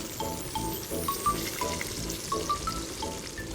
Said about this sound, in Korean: 죽 끓이고 남은 딱돔은 튀김가루 묻혀 튀기면 고소한 맛이 폭발한다는데요